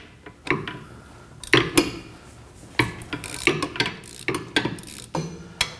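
Two 12mm bolts being worked loose on a 2011-2016 Kia Optima rear brake: bursts of quick metallic ratchet clicks and small clanks, close by and intermittent.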